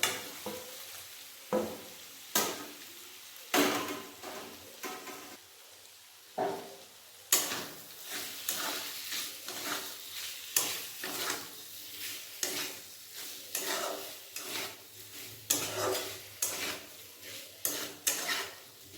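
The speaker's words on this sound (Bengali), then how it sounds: "মশলার সাথে পটলটা একবার কষিয়ে নেব" Pointed gourd (potol) being fried with spice masala in oil, heard as spoon scrapes and clinks against the pan over a low sizzle, with repeated stirring strokes close by and no talking.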